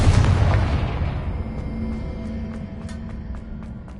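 Confringo spell blast in Hogwarts Legacy, one loud booming explosion at the start whose rumble fades away over several seconds.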